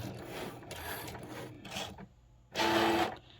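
A Cricut machine cutting along a printed black line for print-then-cut, with quiet mechanical whirring and scraping passes in several bursts, ending in one louder rasping stretch.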